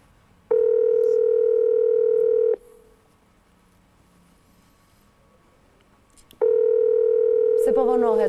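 A telephone ringback tone sounds while a call is placed to another phone, two long steady electronic beeps separated by a few seconds of near silence, loud and close.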